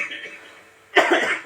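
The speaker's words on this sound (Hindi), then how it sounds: "खांसी हो गया।" During a Hindi-language church sermon, a single cough bursts out loud and close partway through, after a stretch of quiet room tone.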